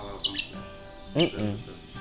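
A lovebird practicing its double-note song gives short squawking chirps in two bursts, close and bright, with a voice talking faintly underneath.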